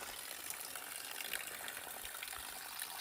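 A small trailside spring along the Pacific Crest Trail between Wrightwood and Agua Dulce runs in a steady, close, bright gushing rush that stays unbroken throughout.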